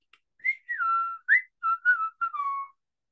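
A person whistles a short melodic phrase of several clear notes, some sliding, close and alone against silence.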